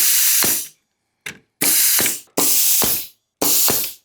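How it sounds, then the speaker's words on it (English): A brad nail gun loaded with 1¼-inch brads jams while firing into wood, giving four sharp, loud pneumatic bursts with hissing air, each followed by a clack, spaced by short pauses. "My nail gun won't fire."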